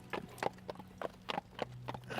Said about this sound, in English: they get on their horses, and then they leave